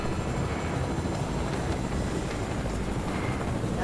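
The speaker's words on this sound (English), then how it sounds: "The helicopter's coming." A helicopter in the Fortnite video game gives a dense, steady rotor and engine roar that fills the whole stretch evenly and loudly, with no voices over it.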